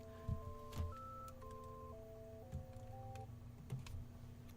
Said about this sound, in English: And that was my phone going off.